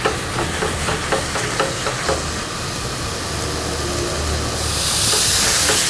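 A spice paste blended with water sautés in a pan for lontong sayur, a dense, loud hiss of sputtering liquid with rapid crackling pops that swells toward the end.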